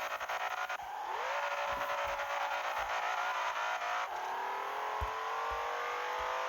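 A modified BMW M5 in the Assoluto Racing mobile game spins its wheels under hard acceleration, the engine note rising sharply through first gear, then shifting and climbing again, with tire noise underneath and no voices.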